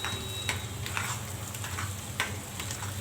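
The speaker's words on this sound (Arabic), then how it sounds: "وهنا هنقلب البصل" Onions fry in oil in a pan for Egyptian koshari while being stirred, a soft continuous sizzle broken by quiet scraping and clinking strokes of the utensil, with no talking.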